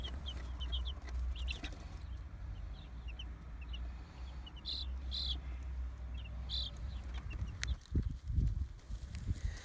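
Hens cluck softly in the background over a low steady rumble, with a few louder thumps and bumps near the end.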